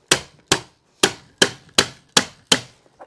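Seven sharp staple shots fire at a steady rhythm, about two per second, driven into a nylon stair runner carpet under a stair nose, each a crisp close snap with a quick decay and no talking.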